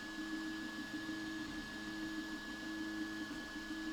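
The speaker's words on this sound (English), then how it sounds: "the bulk of the noise is mostly the fan that I'm hearing" A Prusa i3 Mk2 3D printer's cooling fan runs at a steady, continuous hum with an airy whir, holding even and unchanging throughout at moderate volume.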